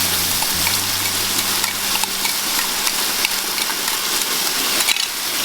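Water goes into a pan of meat for braising and gives a steady, close rushing hiss with light bubbling and stirring. It stays at an even loudness throughout, with no voices.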